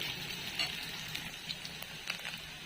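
Eggs sizzle in a pan for village-style egg bhurji, a faint, continuous crackling fry with scattered soft pops and light stirring scrapes, no voices.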